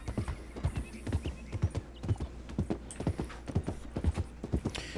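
Horse hooves clip-clopping in a steady, fairly quick rhythm, close and distinct, with a brief whinny near the end, from a video game.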